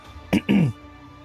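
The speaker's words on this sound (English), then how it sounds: "Try not to clear my throat too much on the mic" Two quick, close throat clears in succession, short and gravelly, followed by quiet.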